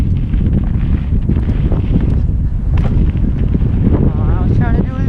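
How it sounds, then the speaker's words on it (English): Strong wind on a bike ride buffets the microphone as a loud, continuous roaring rumble throughout, steady and close, with faint rustling under it. "that wind, dude"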